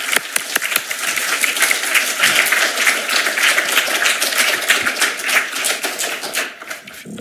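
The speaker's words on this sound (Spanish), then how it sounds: "Aplausos." An audience applauds to welcome a lecture speaker, a loud, dense clatter of many clapping hands sustained for several seconds before thinning out toward the end.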